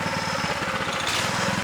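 A freshly started small petrol engine, just tuned at the idle, runs at a steady buzzing putter with an even rapid pulse, close and loud with no voices.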